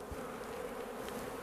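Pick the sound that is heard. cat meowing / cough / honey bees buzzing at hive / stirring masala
honey bees buzzing at hive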